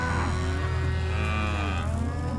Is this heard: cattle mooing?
yes